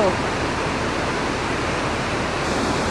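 Kalu waterfall in Malshej Ghat pours in a steady, dense broadband roar that fills the whole three seconds without pause, close and loud, with no voices breaking through.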